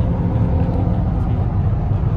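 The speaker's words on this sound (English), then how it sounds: "Not him trying to race his truck." A truck's engine rumbles steadily from inside the cab while driving, a low continuous drone with a slight swell as it is pushed harder, no clear talk over it.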